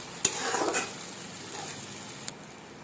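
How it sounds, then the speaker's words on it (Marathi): Roasted semolina goes into softened tomatoes in hot oil for upma and sets off a faint sizzle and stir close by. A couple of sharp clinks from the utensil come through, and the hiss settles into a quiet steady fry. "टोमॅटो सुद्धा सॉफ्ट झालेला आहे, त्याच्यामध्ये आपण आता रवा टाकायचा, जो आपण भाजून ठेवलाय मगाशी तेलामध्ये।"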